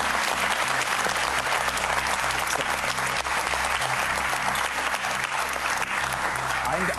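Studio audience at a cooking competition show applauding a dessert of Grießknödel with plum compote and butter crumbs, a loud, continuous wave of clapping with a low hum and faint voices underneath.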